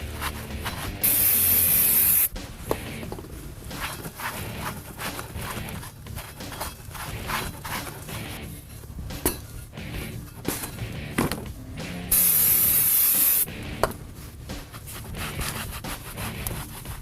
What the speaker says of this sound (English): just use some common brake cleaner and a bunch of rags. Spray it off and wipe it down.